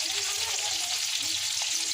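Green chilies frying in hot oil alongside tempering spices and onions, a continuous loud close sizzle with light crackles.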